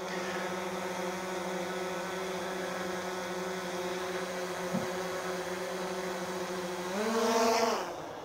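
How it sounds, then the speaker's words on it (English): A steady engine drone hums along, then a car rises in pitch and roars past fairly close near the end before fading. "I'm getting loud cars going by"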